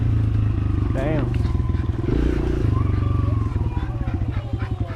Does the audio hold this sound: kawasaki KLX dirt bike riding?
yes